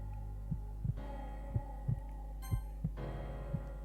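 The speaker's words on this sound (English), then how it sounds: "I can hear my heartbeat grow louder than anything else" Game heartbeat from Doki Doki Literature Club: paired thumps repeating about every second, steady and prominent over a low hum, with no talk.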